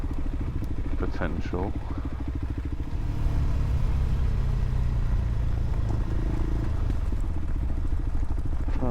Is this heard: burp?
no